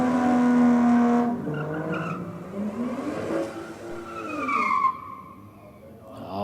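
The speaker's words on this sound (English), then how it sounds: "The BMW 340 is back out. It's figured out the burnout." A BMW 340 doing a burnout at a no-prep drag strip, loud engine roar with tire squeal rising and sliding in pitch, then revs easing off, heard up close and alone.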